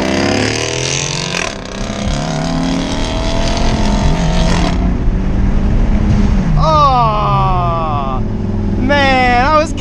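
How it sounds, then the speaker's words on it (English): A Mitsubishi Evo X revs and launches in a street race against a Jeep SRT8, its engine rising through sharp, loud gear pulls close by, with people talking and shouting over it. "let me practice my launch real quick"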